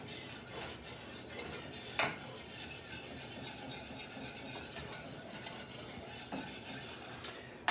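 Warm bacon salad dressing cooking and thickening in a pan on an old stove, with a steady sizzling hiss and occasional scrapes of a utensil, close and continuous without talk.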